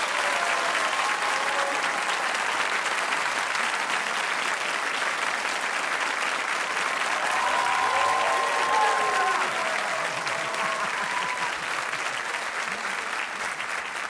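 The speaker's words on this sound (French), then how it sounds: "sous vos applaudissements, Luca et Tino" Theatre audience at the Grand Théâtre de Verviers applauding the arrival of the Italian comedy magic duo Luca and Tino, steady dense clapping from a large crowd held throughout, with brief cheers and whoops rising above it.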